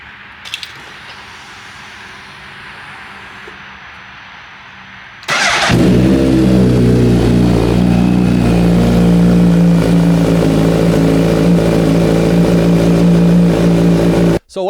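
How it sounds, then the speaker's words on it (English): Tuned 2020 Suzuki Katana motorcycle engine starting up after a quiet stretch, then holding a loud, steady idle with revving close by, heard alone until it cuts off near the end. "let's hear what it sounds like"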